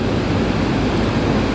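Fast-flowing river water rushing under a bridge without railings in northern mountains, a loud, steady broadband roar with no pauses and no voices.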